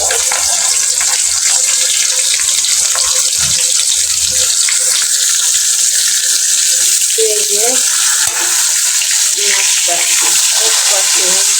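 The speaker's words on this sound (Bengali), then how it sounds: "আদা রসুন জিরা বাটা দিচ্ছি, যার জন্য এরকম হচ্ছে" Ginger, garlic and cumin paste fries in a wok on a stove, a loud continuous sizzle and hiss with faint scraping of stirring throughout.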